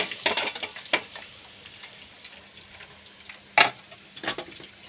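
Onion frying in a pan for rava upma, with soft sizzling broken by occasional sharp clinks and scrapes of a utensil stirring against the metal pan.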